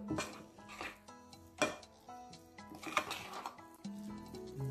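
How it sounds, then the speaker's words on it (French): Petits fours dough being mixed in a bowl with a little baking soda, irregular scraping and clinks of a utensil against the bowl, moderately quiet, no talking. "Je mélange le tout."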